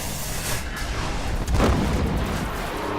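A grenade detonates in the Destiny video game, a dull booming burst that swells midway through a dense, roaring battle soundscape, loud and sustained.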